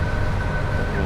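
Train running at about 90 mph in Train Sim on the Glasgow Central to Paignton route over the West Coast Main Line, a steady continuous rumble with a faint high tone held throughout, no voices.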